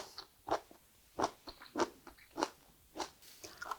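Close, crisp crunchy chewing of boiled sea kelp (soemiyeok) eaten with Cheongyang chili, a series of about eight distinct bites and chews in an irregular rhythm, quiet and without talk.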